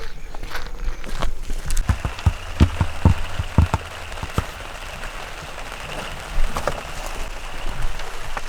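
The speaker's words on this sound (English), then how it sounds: "it's been raining on both days that we've been on the road" Rain falls steadily outdoors on an overland road trip through Colombia, a dense patter with scattered sharper drops and occasional thuds, no talk.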